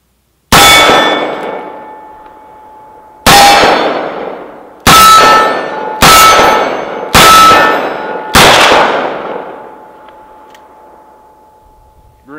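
Six loud close shots from a Ruger GP100 .357 Magnum revolver with a 4-inch barrel firing 158-grain rounds, each followed by a ringing clang of a struck steel gong that fades slowly, spaced irregularly and with no talking.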